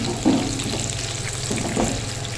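Potato and chili pakoras fry in hot oil with a loud, continuous bubbling sizzle, close up, broken by a couple of brief stirring clatters and no talk.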